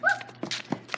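A dog gives a few short yips and whimpers close by, quick and high-pitched, with brief pauses between them.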